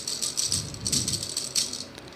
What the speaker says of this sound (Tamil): இது பார்த்திங்கன்னா ஒரு க்யூட்டான டிஃப்ரெண்ட் மாடல் ராட்டில்.